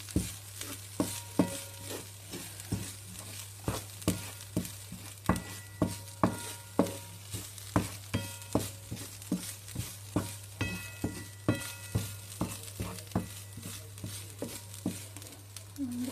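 Grated coconut stirred in ghee with sugar, a spoon scraping and clicking in steady repeated strokes against the pan over a soft sizzle and low hum, close and fairly quiet, with no talk.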